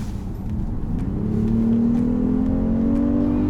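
A Genesis GV80 3.8 gasoline engine revs up under hard acceleration, its steady rising drone growing louder and climbing in pitch over a few seconds.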